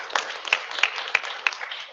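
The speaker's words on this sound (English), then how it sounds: "If we can give him a round of applause." Steady applause from a crowd at a city council meeting, with distinct sharp claps standing out at regular intervals over a continuous patter of hands.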